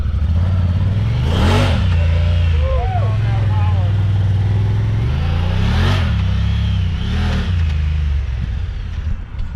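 A rebuilt, previously wrecked UTV engine runs at a steady low idle, swelling into three short revs, loud and close throughout.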